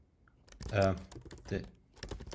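Keys on a computer keyboard tap out a prompt for ChatGPT in a few quick close clusters, with someone talking over the typing.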